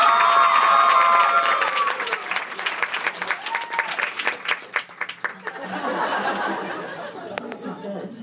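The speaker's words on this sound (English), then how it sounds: "So give him a round of applause" A comedy club audience at Acme Comedy Club in Minneapolis claps and cheers, with scattered laughter. The applause is loud at first, then thins into uneven claps while a performer keeps talking over it.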